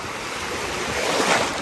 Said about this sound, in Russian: И волны здесь сильные очень.